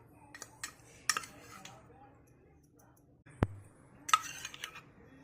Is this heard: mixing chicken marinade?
yes